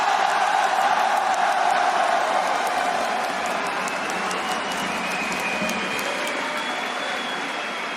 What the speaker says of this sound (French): Paris, un tonnerre d'acclamations pour vos deuxièmes finalistes, troisième fois d'affilée